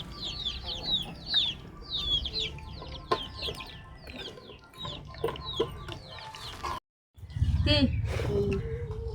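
Chickens cluck and chirp repeatedly at a home kitchen, their short calls scattered across the clip while people talk in the background, with a brief gap of silence before louder noise resumes.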